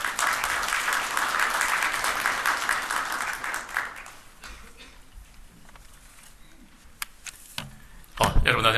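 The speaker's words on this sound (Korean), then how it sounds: "류희림 본부장님을 큰 박수로 모시겠습니다." Applause at a science forum welcoming a broadcasting executive to the podium, full and loud at first, then thinning to scattered faint claps before a voice and microphone handling noise come in.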